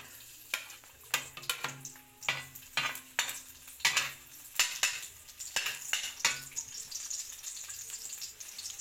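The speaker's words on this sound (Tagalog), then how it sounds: "Ayan, konting mantika lang, konting-konti lang. Ayan, lalagay ko na yung bawang." Chopped garlic frying in a very small amount of oil in a pan, giving a steady close sizzle broken by sharp, irregular clinks and scrapes of a utensil against the pan.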